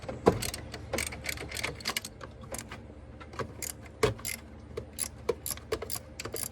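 Bolts on a 2004 Chevy Trailblazer 4200 Vortec engine being worked loose with a ratchet wrench, giving rapid metallic clicking and clinking in busy bursts throughout, close by with no talk.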